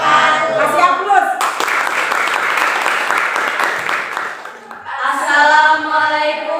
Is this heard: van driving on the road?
no